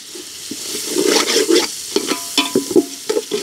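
Green chillies frying and stirred in a pan for kallu chicken, with a soft sizzle under repeated scraping strokes of a spoon, close and moderately loud.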